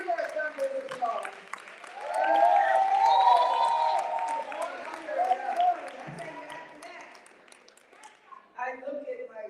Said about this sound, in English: Give her a thunder of applause.